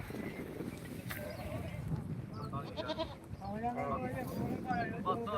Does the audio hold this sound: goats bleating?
yes